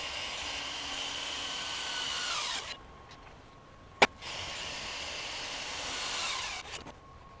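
Cordless impact wrench in nut-busting mode at speed setting 3, loosening large fasteners: a sustained loud whirring hammer runs about two and a half seconds, stops with a sharp click, then a second long burst follows.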